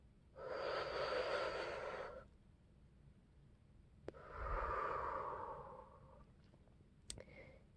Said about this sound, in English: Yay, breathing exercises.